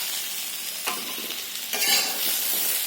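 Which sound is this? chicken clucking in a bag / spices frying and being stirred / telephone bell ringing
spices frying and being stirred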